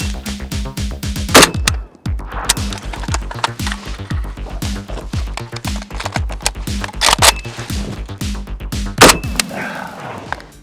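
AKM rifle on an outdoor range: three sharp, loud shots spaced several seconds apart, cutting through a busy tonal background with metallic clanking.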